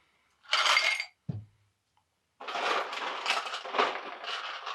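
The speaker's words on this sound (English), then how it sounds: "I'm going to put some ice in that." Ice cubes dropping into a highball glass for a gin rickey: a bright clattering burst, a single sharp clink, then a longer run of close, dense rattling and tinkling.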